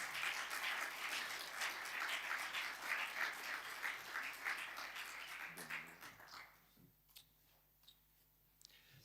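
A warm round of applause at a labour conference welcoming a minister to the stage, fairly quiet and distant, sustained for several seconds then fading into sparse clicks and near silence.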